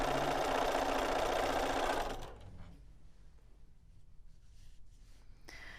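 A sewing machine runs a steady, close stitching whir across quilt fabric for about two seconds, then stops, leaving faint rustling and quiet room tone.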